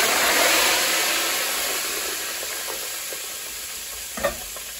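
Catfish fries in hot grease with a steady, broadband sizzle that fills the clip, close and fairly loud, easing slightly over time, with a brief bump of clatter near the end and no talking.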